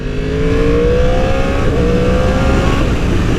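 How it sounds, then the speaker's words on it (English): A 2020 Yamaha R1 with a crossplane engine accelerates hard, its loud, rising engine note climbing steadily and close by with no talk over it. "the subtle sound of that crossplane just it's intimidating sometimes"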